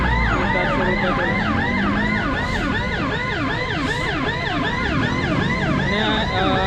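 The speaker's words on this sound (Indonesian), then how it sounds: "Ini ambulans yang jadi fokus utama ya, sudah bisa Habibie," Ambulance siren wailing continuously at a campaign rally in the city of Parepare, loud and close, steady rising-falling sweeps with road traffic underneath.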